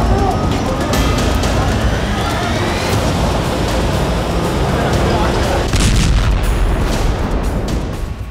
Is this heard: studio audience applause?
no